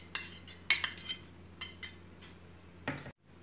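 Grated beetroot being mixed into whole wheat flour dough in a bowl, heard as faint, scattered clinks and taps of a utensil against the bowl with soft stirring between them.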